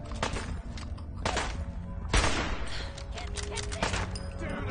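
Tommy gun bursts in Fallout 4: a few short, sharp volleys of automatic fire with one louder crack near the middle, layered over game ambience and scattered impacts.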